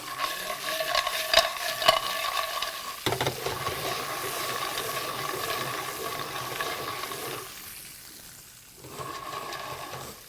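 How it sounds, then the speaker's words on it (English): Clams sautéing in a pan, a continuous hiss and sizzle with shells clattering and rattling as they are tossed, fading briefly before rising again. "Now you want to saute the clam"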